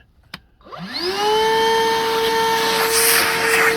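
A Bauer 20V cordless vacuum cleaner with a 5 amp-hour battery whirs up from a click and settles into a steady, loud, high-pitched whine with a strong motor hum.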